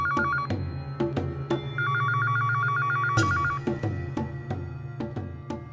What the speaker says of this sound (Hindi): सिर्फ फोन बज रहा है।